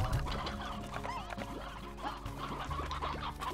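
Hens in the video game Slime Rancher cluck repeatedly in short, busy bursts over a soft background hum, with a few higher squawks mixed in; no one speaks.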